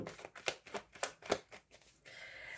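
Tarot cards are shuffled by hand, a quiet series of about seven crisp riffling flicks in uneven rhythm, followed by a brief soft rustle, heard close with no talking.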